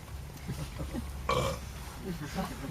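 A single loud burp right after gulping down a 20-ounce bottle of Powerade, standing out clearly over a quiet room with some speech around it.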